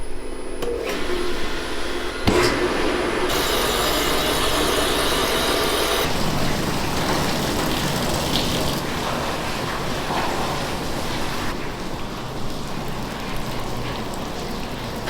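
A reverse osmosis machine for concentrating maple sap starts up in stages and then runs with a loud, steady whooshing roar and a constant mechanical hum.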